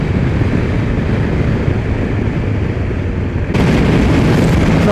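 A 2020 BMW S1000 XR motorcycle cruising at motorway speed on the M61, a loud, steady broadband roar of engine and wind rush that holds constant throughout, brightening slightly near the end.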